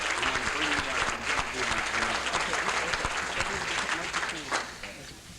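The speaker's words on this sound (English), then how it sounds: "Please, let's give them a round of applause." An audience applauds at a real estate broker class event in Pittsburgh, a steady, dense clapping that holds for several seconds, with some voices mixed in.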